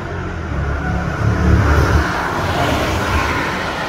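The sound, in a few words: BMW X6 50i biturbo V8 engine revving through gear change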